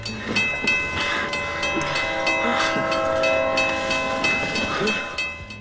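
A train rushes at high speed past a railroad crossing, a loud, continuous roaring rumble with steady clattering and ringing tonal layers, close by and without any talk.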